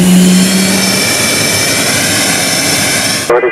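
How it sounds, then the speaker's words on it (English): A Boeing T-7 Red Hawk advanced jet trainer for the U.S. Air Force taxis close by, a loud steady jet whine and roar holding level for several seconds before cutting off abruptly. "one of 2 Boeing purpose-built jets for the U.S. Air Force T-7 Red Hawk Advanced Trainer Program taxis into position"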